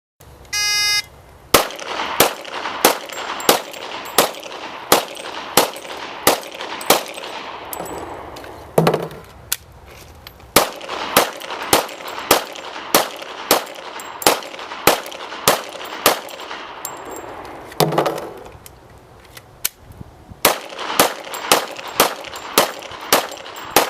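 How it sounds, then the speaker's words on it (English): Thirty rounds fired from a firearm across three 10-round magazines ring out as loud, evenly spaced sharp shots in steady rhythm, with two brief pauses and metallic clatter where the magazines are changed. "Now Christy will demonstrate again shooting 30 rounds, this time in 3 10-round magazines."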